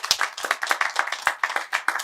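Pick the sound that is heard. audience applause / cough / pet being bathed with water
audience applause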